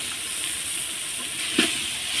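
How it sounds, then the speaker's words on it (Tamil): Onions fry until golden in a pan for chicken biryani, giving a steady, close sizzle with a brief scrape or stir partway through. "நல்லா வெங்காயம் பொன்னிறமாக வதங்கிடுச்சு பாருங்கள்"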